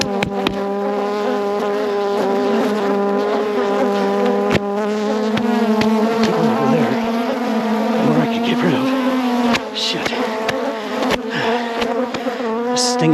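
A dense, steady drone of bees buzzing close around a beekeeper while bees escape from a hive, loud and continuous, with sharp knocks and rustles breaking in at intervals.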